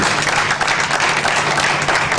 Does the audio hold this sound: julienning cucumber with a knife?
no